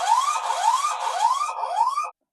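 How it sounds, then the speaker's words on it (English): Blurams A12S home security camera sounding its alarm siren, four rapid rising electronic whoops in a row, loud and clear, cutting off abruptly to silence. "You can also trigger an alarm."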